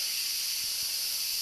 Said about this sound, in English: And I'm going to let the steam out